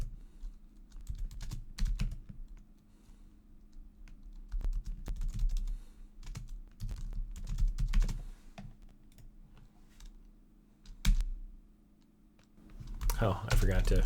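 Fingers typing on a computer keyboard at a desk, with quiet, irregular key clicks in short bursts and a few sharper taps, close and soft, and a voice briefly at the end.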